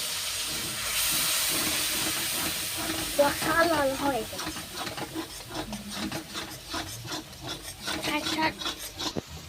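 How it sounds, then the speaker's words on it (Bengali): Spice masala for a cabbage curry being stir-fried in a pan with a little water: rasping, scraping spatula strokes over a steamy hiss, moderately quiet, with a brief voice mixed in. "এইবার ভালো করে মশলাটা আবার কষিয়ে নেব।"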